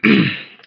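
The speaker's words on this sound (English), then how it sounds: "I'm gonna be coughing a lot." A single short throat-clearing cough, close and fairly loud, a rough burst that fades within under a second.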